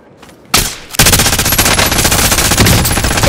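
Gunfire erupts in Warzone resurgence quads: a loud single shot, then a sustained rapid burst of automatic fire, close and dense.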